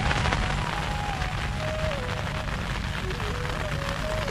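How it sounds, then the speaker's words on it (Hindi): Light morning rain falls steadily on a wild forest campsite in India, a soft continuous patter under constant broadband hiss, with a faint wavering tone drifting through and no talk. "तो दोस्तों, बारिश होनी चालू हो गई, तो बरसात होने लगी।"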